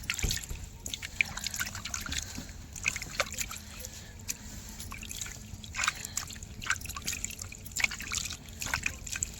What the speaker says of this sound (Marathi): स्वच्छ बटाटा भिजवून घेते थोडासा 5 मिनिटं आणि मग धुवून काढते